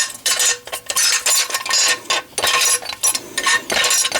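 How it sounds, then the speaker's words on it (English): AR-15 rifle parts dropped one after another into a small metal pan of solvent: a loud, close, continuous jangle of metal clattering on metal with many overlapping clinks and brief pauses. "I have some solvent, and I'm just going to drop all of these pieces right in here"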